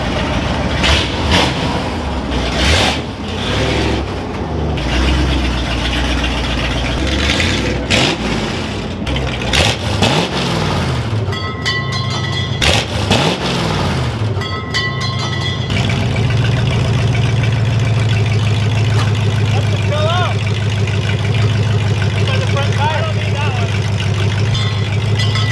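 A 1971 crew cab truck with EFI and a makeshift rigged exhaust runs loud and rough, revving and rumbling with clanks and rattles, then settles into a steady droning idle; someone talks over it.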